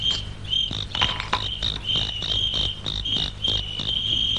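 A cricket chirps in steady, rapid pulses close by, shrill and continuous, with a low background hum beneath it.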